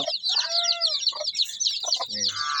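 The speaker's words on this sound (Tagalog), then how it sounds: "tapos may napisa po tayong mga sisiw dito." Backyard chickens, including Rhode Island hens and newly hatched chicks, cluck and cheep up close, with high peeping from the chicks over the lower clucks of the adult birds.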